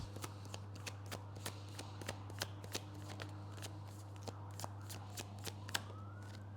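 Tarot cards being shuffled by hand, a rapid series of crisp riffling snaps and soft flutters, close and fairly quiet over a steady low hum, with no talking.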